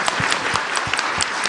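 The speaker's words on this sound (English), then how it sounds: "Can we all give a round of applause to Casey?" An audience at a county commission candidate forum applauds, a dense sustained burst of clapping from a room full of people, steady and fairly loud throughout.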